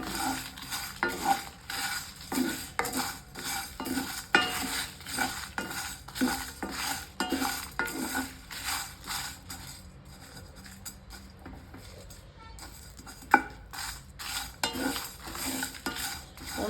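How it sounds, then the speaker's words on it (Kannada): Pepper and cumin roasting in a pan for turkey berry sambar, heard as steady metallic scraping and clinking of a spoon stirring, in regular strokes up close, with a quieter stretch midway and no talk. "ಮೆಣಸನ್ನ ಹುರಿತೀನಿ"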